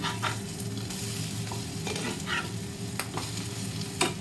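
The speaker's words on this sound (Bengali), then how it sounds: "শুধু মাছের ডিমটা ভাজা হচ্ছে" Fish roe frying in a pan gives a constant dense sizzle close by, with a few sharp stirring scrapes and clinks of a utensil scattered through; no one speaks.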